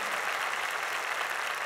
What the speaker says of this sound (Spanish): Si vas a aplaudir, hazlo fuerte